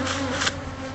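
Dense, steady buzzing of a swarm of honeybees around a hive built inside a house soffit, close and continuous with no voices.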